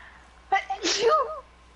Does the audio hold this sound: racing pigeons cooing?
no